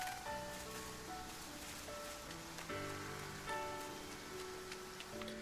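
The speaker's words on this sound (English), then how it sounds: "It's raining today" Rain falls in the farming video game Story of Seasons: Grand Bazaar, a soft, steady patter spread evenly beneath gentle tonal game music, quiet and constant throughout.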